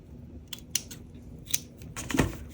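Scissors make a few crisp snips spaced about a second apart, close and quiet, trimming a piece to fit around a moose's neck, followed by a brief rustle.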